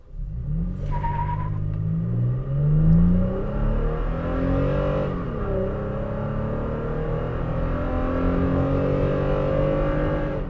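A 2023 Toyota Tacoma TRD Pro accelerating hard from a standstill to 60 mph, its engine note climbing steadily through the gears with brief dips at shifts, loud and close throughout with no talking.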